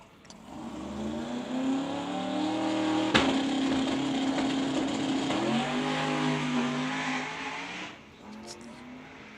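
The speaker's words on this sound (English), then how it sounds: "The mechanical noise through this car." A radial-tire drag race car in a Kenda 660 Radial Series event makes mechanical engine noise: a steady droning tone that rises and falls in pitch, with a sharp crack partway through, heard at moderate distance with a voice over it.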